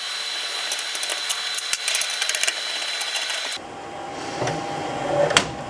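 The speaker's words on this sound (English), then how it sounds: "Let's go ahead and remove the screws off from the back side of this fan," Screwdriver backing screws out of a case fan inside a PC: a run of close ratcheting clicks and faint scraping over a steady whir, then a quieter stretch with a single sharp click.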